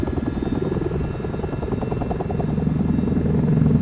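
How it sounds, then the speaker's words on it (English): Mi-8 helicopter flying a solo aerobatic display at an air show in Sochi, its rotor chopping in a steady rhythmic thrum that grows louder and nearer. "The Mi-8 is among the world's most produced helicopters, used by 50 countries."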